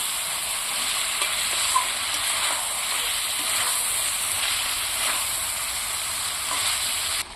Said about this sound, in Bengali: এই মশলাটাকে আমি এর মধ্যে দিয়ে ভালো করে ফের কষিয়ে নিচ্ছি